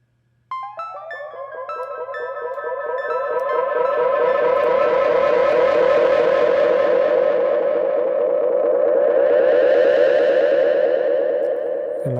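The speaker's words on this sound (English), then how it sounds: "It's feeding back into itself so much, it starts to get hotter and louder and more aggressive." Tape delay emulation in Ableton Live, fed back into itself until it distorts, swells from a repeating plucked pattern into a loud, dense, siren-like wash with rising and falling sweeps that stays aggressive to the end.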